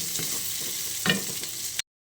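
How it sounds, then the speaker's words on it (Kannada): Spices frying in a pan for a mutton masala, a steady close sizzle with a few scraping stirs of the spoon, one louder stir about midway, then it cuts off abruptly. "ಇದೆಲ್ಲವನ್ನು ಹಾಕಿ ಫ್ರೈ ಮಾಡಿ"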